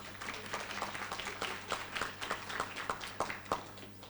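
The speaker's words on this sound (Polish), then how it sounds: "Gorące brawa dla pani Ani." An audience claps at a conference in Olsztyn, a fairly faint, uneven patter with a few sharper claps standing out over a low hum for about four seconds.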